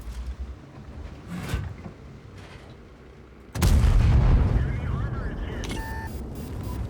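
Tank cannon shots in a video game: a heavy boom cuts in sharply partway through and rumbles on, after softer distant thuds, with a faint mechanical whine and a couple of short tonal beeps.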